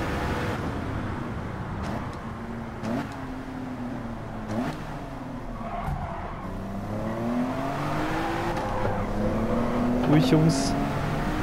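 A Mitsubishi GTO race car engine in Gran Turismo 7 on the Deep Forest track, a continuous droning engine note rising and falling through gear shifts, with someone briefly speaking over it.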